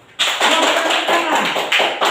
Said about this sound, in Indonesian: kita semua tepuk tangan dulu